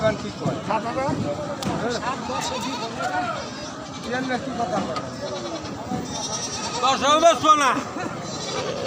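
Goats bleat repeatedly in a noisy village livestock market in Jamalpur, several wavering cries near and far, with a loud burst toward the end amid people talking.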